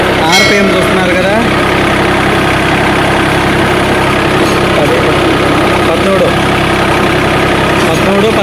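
John Deere mini tractor engine running steadily in third gear, a loud, constant close-up drone with a rough low rumble and vibration that holds level throughout, with no pauses.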